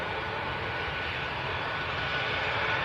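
Distant jet aircraft engines at Manchester Airport, a steady broad roar that holds at a faint, even level throughout, with no talk.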